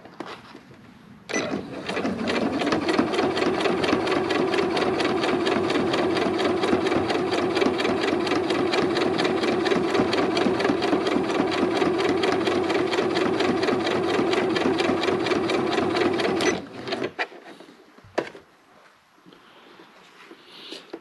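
A sewing machine stitches through thick vinyl for a golf cart sun visor, running in a long, loud, steady rapid chatter for about fifteen seconds before stopping, followed by a few handling knocks.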